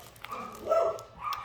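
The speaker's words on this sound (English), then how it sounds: "Bark Fest." A dog barks and yips a few times at moderate volume, short sharp calls spread across a quiet indoor moment with no talking.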